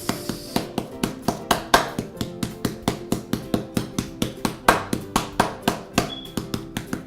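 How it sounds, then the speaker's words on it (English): Meat being pounded with a tenderizer mallet between two sheets for suya, a steady series of about thirty sharp, close thuds in an even quick rhythm, with no one speaking. "using moderate pressure, just tenderize the meat"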